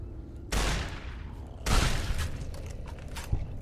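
Gunfire in Fallout: New Vegas: two loud bursts of shots, one starting early and another about a second later, followed by scattered sharper cracks over a busy game soundscape.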